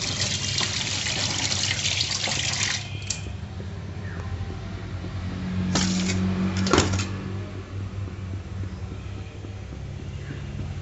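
Whole silver pomfret being rinsed by hand in running water, a steady close splash and trickle with a few brief clinks and sloshes, no speech.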